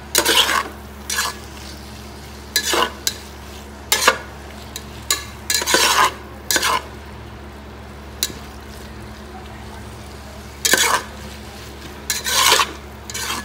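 Onions and vegetables sautéed with ginger garlic paste for a chicken biriyani, in bursts of loud spatula stirring and scraping against the pan over a low steady sizzle, with quiet pauses between strokes.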